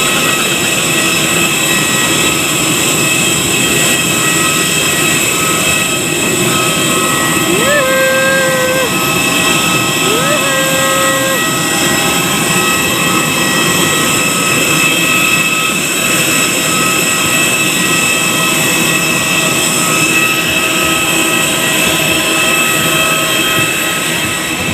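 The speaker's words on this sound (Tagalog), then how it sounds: "Paakyat na kami sa aeroplano." Airplane jet engines whine and roar steadily throughout while passengers board for a flight to Manila, a constant loud wash of engine noise with no breaks.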